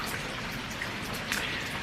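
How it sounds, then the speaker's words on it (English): Heavy rain pours down outside, a dense, constant hiss of drops striking surfaces, steady and enveloping with no voices. "It is like pouring down rain right now."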